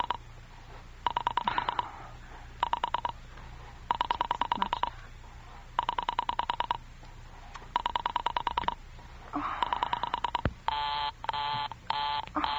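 Telephone dialing in an old radio drama: several bursts of rapid ringing pulses separated by short pauses, ending in a quick series of sharper tone bursts, all fairly close with a low background hum and no voices.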